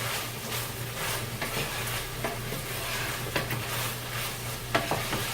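Lean ground beef for tacos is stirred in a pan over a constant fizzing sizzle, with soft scraping and clacking of the utensil throughout. It sounds close, with no talking.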